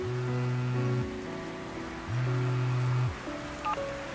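Rain falls in a steady, even hiss on a city street. Long, low tonal honks come and go over it, like traffic nearby.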